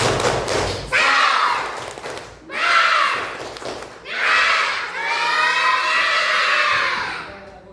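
A classroom of children performs a spirited clap chant in a teacher-led lesson, in four loud bursts of rhythmic clapping mixed with shouted voices. The last burst runs longest, ringing out in an energetic, sustained wave.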